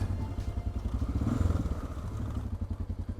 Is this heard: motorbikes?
yes